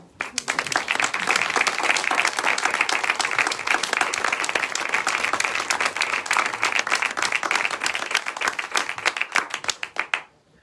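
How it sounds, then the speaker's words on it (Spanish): A crowd at a poetry recital applauding steadily for about ten seconds, dense clapping that holds even and then fades out at the end. "Un aplauso para Carlos, que está allí en la oscuridad"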